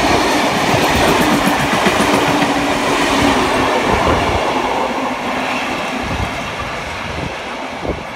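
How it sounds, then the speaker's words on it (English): Sydney train GL112 passing platform 2 at Emu Plains gives a loud continuous rumble with rhythmic wheel clatter throughout, close by and with no voices. "We have GL112 passing platform number 2."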